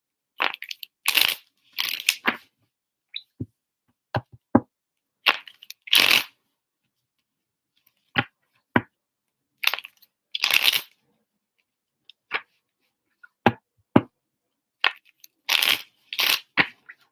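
Tarot cards are handled and shuffled in sharp, separate bursts of riffling and slapping, close and clear, with silent pauses between the bursts.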